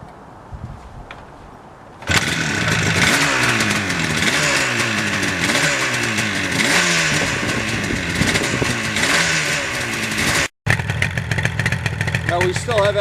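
A 1977 Yamaha RD400 two-stroke motorcycle engine bursts into life and runs on choke, a loud, raspy, close idle with rhythmic popping and slight revving, briefly cutting out near the end, with a voice speaking over parts of it.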